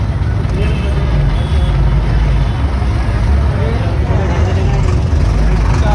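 A tractor pulling a trolley rolls past at a crowded Sikh pilgrimage gathering, its steady engine rumble and road noise continuous and fairly loud, with a busy crowd murmuring around it.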